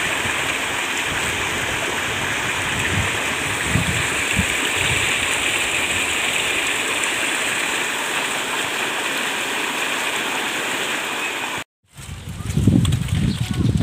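Continuous rushing of flowing warm water at a bathing spot in Banda Aceh, a steady even wash that runs unbroken, then drops out briefly before returning with some low bumps and handling noise.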